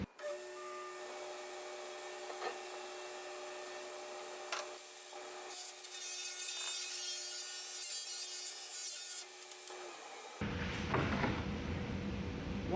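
A table saw cuts through a large piece of wood, a sustained loud whine and rasp that holds for about ten seconds before the sound shifts to a broader, noisier roar as the blade clears the board.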